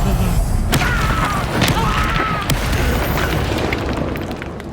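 An Incendio fire spell is cast in a Hogwarts video game: loud booming, fiery bursts with rumbling and crackling impacts, dense and continuous throughout.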